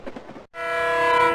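Passing train sound effect with a steady horn-like harmonic blare building after a brief gap, preceded by a rumbling rhythmic rattle of cars; loud and close, with no voices.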